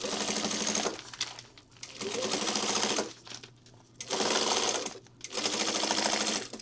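A sewing machine stitches fabric in loud, rapid, steady runs. There are four bursts of a second or two each, separated by brief pauses.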